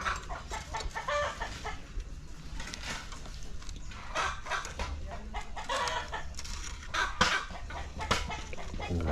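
Chickens cluck and squawk close by in irregular bursts, with several birds calling over one another against a noisy farmyard background.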